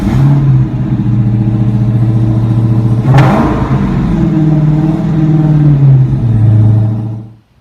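Dodge Challenger SRT Hellcat with a 6.2-litre supercharged Hemi V8, starting and idling in a car park, loud and close. A sharp blip of revs comes partway through, then a rumbling idle that cuts off at the end.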